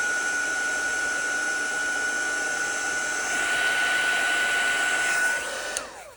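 A heat tool blows steadily over wet watercolor paint, a close, loud whooshing hum with a faint whine that holds for several seconds before switching off with a falling pitch.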